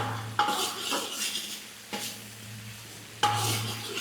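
Ginger garlic paste being stirred in a pan for chicken sherva, with several distinct scraping clatters of a spoon against metal over a low steady hum and faint sizzle, no voices.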